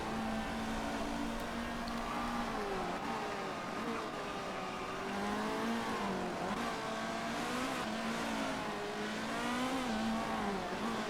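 Race cars circling a track in the Motorsport Manager video game at Tondela, a continuous engine drone with shifting pitch as cars rev and pass, steady and moderately loud throughout.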